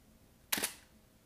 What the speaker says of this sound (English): So I'll kind of show you guys the sound of the shutter again.